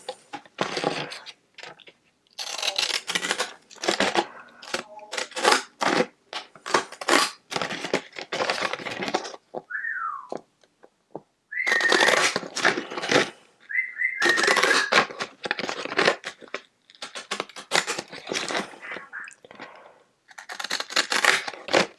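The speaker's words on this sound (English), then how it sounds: "I'm just going to go ahead and cut right around that into the white part of the card." Decal edge scissors snip around a card image, giving repeated crisp bursts of cutting with short pauses between strokes, close and fairly loud, with a couple of brief squeaky tones in the middle.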